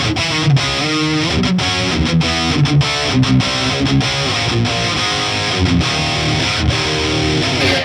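Distorted electric guitar played through a B-52 ATX100 tube amp, loud chugging rhythm chords with crisp muted stops and sustained gritty tones, close and up front, with no voices.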